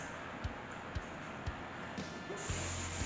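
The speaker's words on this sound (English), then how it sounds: "A little test spray, make sure it's spraying good." Test burst from a shaken can of Blue Candy 2.0 spray paint on a skate deck, a short hiss starting near the end after a few faint taps, quiet and close.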